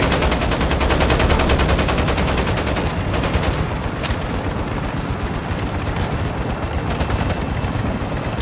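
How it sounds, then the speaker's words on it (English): Sustained automatic gunfire in a Modern Warfare III heist mission: loud, rapid machine-gun bursts hammer almost without pause, close and dominant, with heavy rumbling action noise underneath. "Shooting at him."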